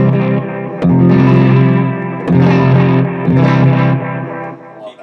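Electric guitar played through an Electro-Harmonix Deluxe Memory Man delay pedal, loud distorted chords struck three times with repeats and reverb-like tails swelling between them, alone without talking.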